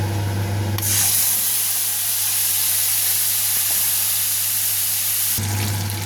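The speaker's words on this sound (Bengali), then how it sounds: "এবার আমি সেই পেস্টটা এতে দিয়ে দেবো।" Tomato and ginger paste hits hot oil in a pan for katla fish curry, bursting into a loud, steady sizzling hiss that lasts several seconds before cutting back to a lower background bubbling.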